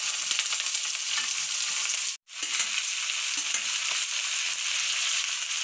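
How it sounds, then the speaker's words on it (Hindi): Sliced potatoes and chillies sizzle in hot oil in a kadhai, a loud, steady frying hiss that drops out for a moment before resuming just as strongly. "इसको हम डालेंगे इस तरह से, धीरे से, झटके से नहीं, फिर तेल ऊपर आ जाएगा।"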